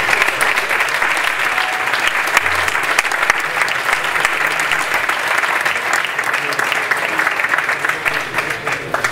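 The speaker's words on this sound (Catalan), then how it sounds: "L'Irene Mir, un aplaudiment, sisplau." A large crowd at a radio and television awards ceremony applauds a historic Spanish television figure with loud, sustained, dense clapping that holds steady throughout with no break.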